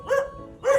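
A dog gives two quick, close barks in a row, short and fairly loud, with a brief gap between them.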